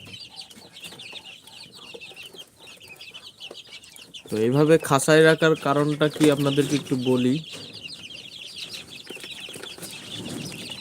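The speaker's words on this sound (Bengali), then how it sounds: "এটা হচ্ছে সবগুলোই দেশি মুরগি একেবারে হান্ড্রেড পারসেন্ট পিওর দেশি মুরগি" Native desi hens on a poultry farm cluck and chatter steadily in the background, with a person talking loudly over them for a few seconds midway.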